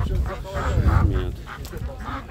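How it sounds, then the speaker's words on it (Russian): Ducks at a bird market in Pyatigorsk giving several nasal honking quacks up close, mixed with people talking nearby. "Вот такие утки."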